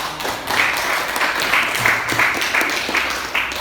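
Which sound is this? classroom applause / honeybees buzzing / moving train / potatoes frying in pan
classroom applause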